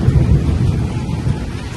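Rain falls with thunder on a summer day at a house courtyard, a deep rolling rumble pulsing under a steady hiss of rainfall, loud and close for a brief moment.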